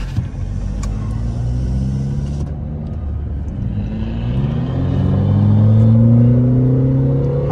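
Tuned 1.6 Hyundai Creta and tuned Mercedes A200 engines roar close by during a drag race, a loud, steady rumble whose pitch climbs as they accelerate and rev higher toward the end.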